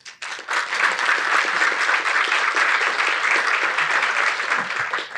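A conference audience at a PMAC 2026 parallel session gives the panelists a round of applause. The clapping is loud, full and continuous, rising quickly after a brief start and tapering slightly at the end.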